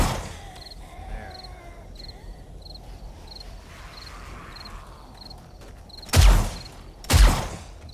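Guns fire at night in the zombie video game 7 Days To Die: two loud, close gunshots ring out near the end over a quiet background with steady, evenly spaced chirps.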